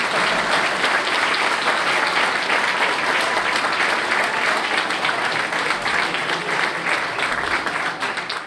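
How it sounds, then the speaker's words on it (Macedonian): Steady, sustained audience applause at a Macedonian municipal election campaign promotion, dense and even clapping that holds for several seconds before easing slightly at the end. "Можете еден аплауз да ми дајате"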